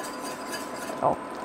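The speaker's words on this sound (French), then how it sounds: "Et on va remuer jusqu'à temps que ça épaississe." A cornstarch mixture is stirred into a boiling sauce for Soo Guy chicken, giving a low, steady swishing bubble with one brief utensil clink near the end, close and without talk.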